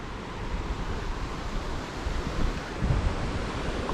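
A mountain stream in Norway rushes loudly down from the hills, a steady broadband roar of churning water close by with slight surges, no voices.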